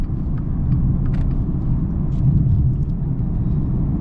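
A 2021 Maserati Ghibli Trofeo accelerating hard: a deep, continuous engine rumble heard from inside the cabin, steady and fairly loud throughout with faint clicks over it, with no talk.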